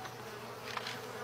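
Faint, close buzzing of bees around a backyard beehive, a thin continuous drone with slight rises, quiet and alone without speech.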